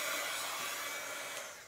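A heat tool for crafting, paint drying and embossing runs with a steady, loud, broadband blowing hiss, close and alone.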